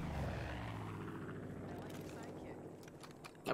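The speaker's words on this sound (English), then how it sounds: "That plane's coming for you now." Propeller plane drone passing overhead in the video game Far Cry 5, a steady engine hum throughout under loud talk from players.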